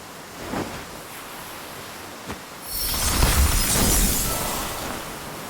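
In the video game Octopath Traveler II, a soft hiss swells into a bright, crackling shatter of an ice spell, like ice breaking apart, with a rushing wash that slowly fades.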